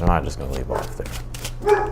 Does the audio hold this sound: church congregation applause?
no